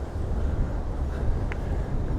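Strong wind near the sea at San Antonio, Palma de Mallorca, a continuous heavy buffeting roar battering the microphone, close and steady throughout the short stretch, with no talking.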